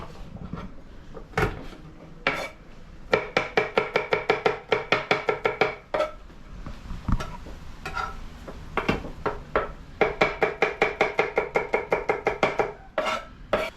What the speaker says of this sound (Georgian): ასევე ვჭრით ნიორს. წვრილად რაც შეიძლება.